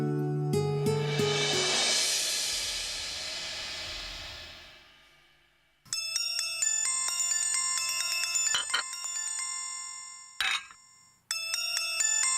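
A phone ringtone plays a bright electronic melody, loud and near, fading once then starting again with a few sharp clicks.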